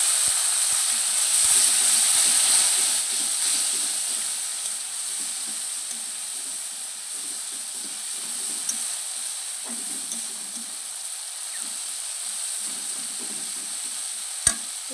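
Spiced oil for a chela fish curry hisses and sizzles as a little water is poured in, a loud steady frying crackle that gradually settles, with occasional faint stirring scrapes and a sharp tap near the end.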